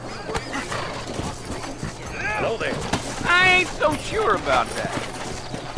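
In the Red Dead Redemption video game, a horse clip-clops and neighs a few times, mixed with a voice speaking in the game.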